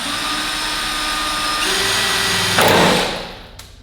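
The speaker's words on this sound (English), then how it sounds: "I grabbed the drill bit and the screw extractor set" A power drill fitted with a screw extractor whines steadily on a stripped bolt of a Porsche 911 Carrera S, its pitch shifting partway through before a louder grinding surge and a spin-down.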